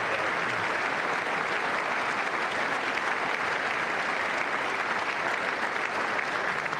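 Sustained applause fills the room at the State of the Union, a thick, unbroken wash of many hands clapping at an even loudness throughout.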